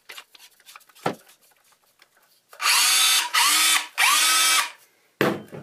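A Makita HDR171 18-volt brushless SDS-plus cordless hammer drill bores into concrete in three loud, close bursts of whining, rattling hammering, with quieter handling clicks before and a short final burst.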